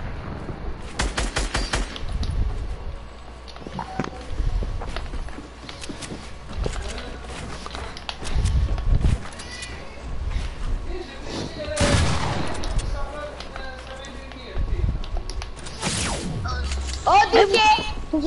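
Rapid bursts of gunfire from a first-person shooter video game, with repeated sharp volleys scattered through the clip under steady French voice chat among players.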